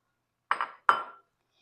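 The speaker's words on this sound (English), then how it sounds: "And then I'll just mix in these sugars until it's combined with the butter." Brown and white sugar being stirred into melted butter in a pan for fudgy brownies, heard as two short clinking, scraping strokes of a utensil against the pan, fairly close, with quiet gaps between them.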